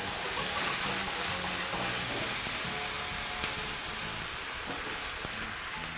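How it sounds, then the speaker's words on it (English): Stock hits a hot pan of red curry paste and tomato paste, bursting into a loud, steady sizzle with hissing steam that fades only slightly as it settles, close and continuous with no talk. "And then just a bit of stock to deglaze the pan."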